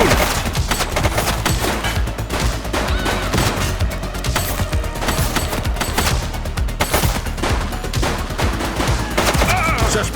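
Dense, continuous automatic gunfire crackles in The Precinct, a police video game, with overlapping rapid shots filling the scene at a loud, steady level and a voice faintly mixed in.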